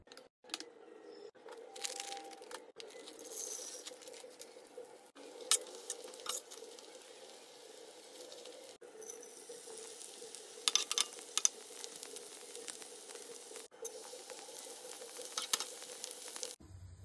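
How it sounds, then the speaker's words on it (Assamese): Soft, steady sizzling of ingredients frying in ghee in a pan, close and quiet, with scattered crackles and faint stirring scrapes throughout. "তাতে মই অলপ অলপ ঘি দি মই সামগ্ৰীখিনি অলপ অলপ ফ্ৰাই কৰি লম"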